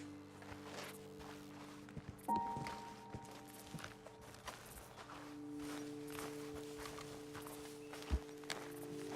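Horse hooves clopping at a slow walk in Red Dead Redemption 2, irregular thuds over a low droning background, with a sharper knock near the end.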